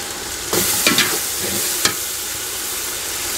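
Mutton biryani cooking in a pot, village style, with coriander and mint: a continuous sizzling fry with a few scraping stirs of a spoon near the start, close and moderately loud.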